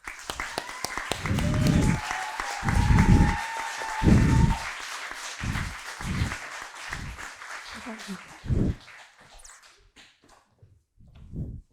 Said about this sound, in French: on peut l'accueillir avec un tonnerre d'applaudissements